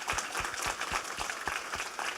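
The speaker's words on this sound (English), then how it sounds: "one more round of applause and appreciation to Martha." Audience applause at a college promise event on student success: steady, dense clapping from a crowd, sustained at an even level with no talk over it.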